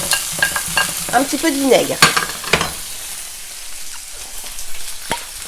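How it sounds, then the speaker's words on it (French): Cherry tomatoes sizzle in a frying pan, with a steady hiss under clinking stirring and scraping that is loudest early on, then quieter frying with occasional taps. A voice speaks briefly. "je vais mettre mes petites tomates dans ma poêle"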